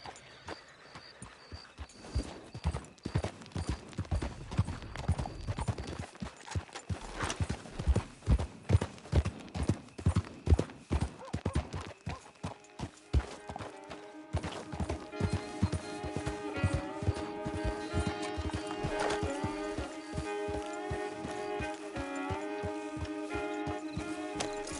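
A horse in Red Dead Redemption 2 clip-clops steadily along, its hoofbeats close and rhythmic, and the pace picks up before music with sustained tones rises under the footfalls.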